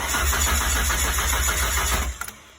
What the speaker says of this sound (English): Car's a bit cold, so it won't probably start up straight away.